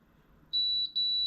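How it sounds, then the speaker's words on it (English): A thermal binding machine beeping when ready, a loud, clear, steady electronic tone in two close beeps, the second held on to the end, over faint room hum. "So our machine is ready. It beeped."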